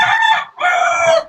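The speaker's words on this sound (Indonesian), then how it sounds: "Suara ayam gue merdu banget" A rooster crows loudly and close by in two strong bursts, with a short gap between them and no other sound.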